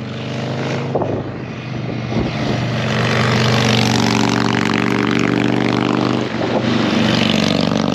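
A vintage motorcycle, among Hondas, Indians and Triumphs ridden with an antique motorcycle club on a twisty Southern California road, drones loudly and steadily, its engine note swelling as it nears and passes close by, with no talk.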